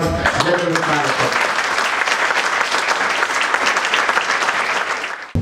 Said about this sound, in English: please welcome with a big round of applause, General Rookmangud Katawal